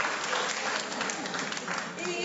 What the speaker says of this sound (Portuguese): Pode bater uma salva de palmas para vocês.